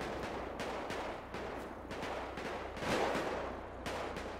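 Rapid bursts of gunfire in the GTA RP video game on a roleplay server, a string of sharp repeated shots over a constant low background rumble, fairly distant and with no talk.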